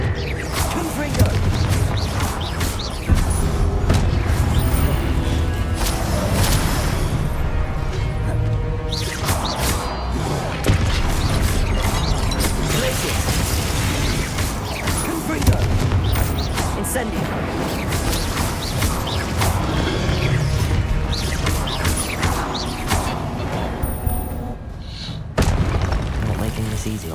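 Confringo fire spells fired in the video game Hogwarts Legacy set off a dense run of loud booms and crashes over a game soundtrack, with a voice speaking throughout.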